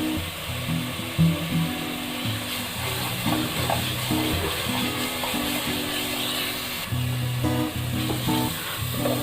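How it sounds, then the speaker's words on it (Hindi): Ginger garlic paste masala for dhaba-style paneer masala sizzling and frying in a pan, a loud steady hiss throughout with faint tonal background sounds like music beneath it. "देखिए मसाला हमारा बहुत अच्छे से भूनने लगा है"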